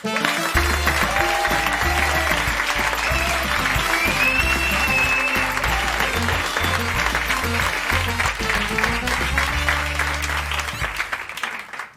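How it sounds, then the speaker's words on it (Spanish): Audience applause greeting comedian Ernesto Sevilla on the Parking Karaoke show, dense and steady for the whole stretch with music playing underneath, a sustained loud wash of clapping. "un aplauso muy fuerte para Ernesto Sevilla"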